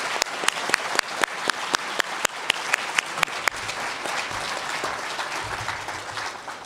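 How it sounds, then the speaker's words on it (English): An audience at the Bram Stoker Awards ceremony breaks into a steady round of applause, with a few sharp, loud nearby claps standing out over the crowd before fading into a softer, continuous patter. "can we give a round of applause for that?"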